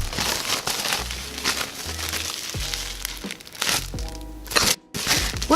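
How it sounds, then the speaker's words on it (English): A plastic bag is handled and rustled up close, giving bursts of crinkling and crackling that come and go in uneven handfuls, with a few sharper crunches. "Alright, we got a plastic bag."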